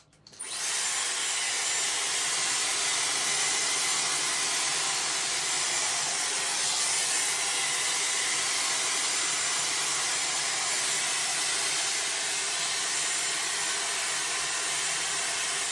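A Dyson Airwrap hair styler switched to cold air while curling hair, blowing a loud, steady, broadband rush of air that starts abruptly and holds constant throughout.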